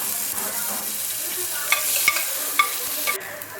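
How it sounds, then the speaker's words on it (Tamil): Onion and chili sautéing in a hot pan: a steady close sizzle broken by a few sharp spatula scrapes and clicks against the metal, with no talking. "வெங்காயம் மிளகா வதங்கிடுச்சு பாருங்கள்"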